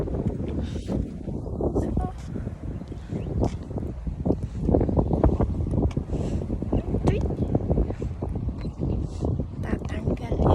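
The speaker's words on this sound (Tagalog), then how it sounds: "Ay, lakas ng hangin." Strong wind blowing outdoors during a walk, a steady loud rush with buffeting gusts across the microphone throughout, while a person talks over it.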